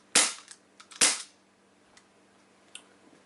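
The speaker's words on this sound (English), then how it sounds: "Load your magazine and get ready to fire." A Sig Sauer M17 CO2 blowback air pistol fires two sharp, loud shots about a second apart, each followed by faint mechanical clicks in an otherwise quiet setting.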